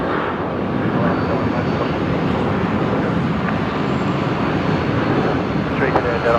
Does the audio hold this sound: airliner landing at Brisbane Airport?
yes